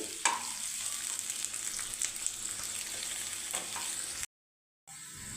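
Onions frying in a pan until brown for Rayalaseema-style chicken dum biryani, a constant close sizzle with faint stirring scrapes, broken by a short silent gap near the end.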